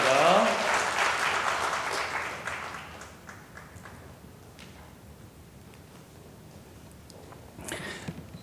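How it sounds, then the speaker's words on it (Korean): A church congregation at a Sunday service applauds after a cake cutting, with loud clapping at first that fades within a few seconds into a quiet room with faint sounds. "박수 주세요."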